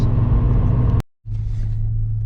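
An old, worn Subaru car pulls hard with a loud, close engine roar, cuts out abruptly for a moment as if shifting, then resumes with a steady droning rumble.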